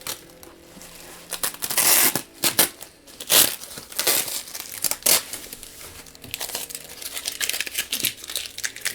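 Mail package holding diecast trucks being opened up close, with loud bursts of crinkling plastic and paper, tearing and rustling in irregular handfuls, some sharper crackles between quieter handling.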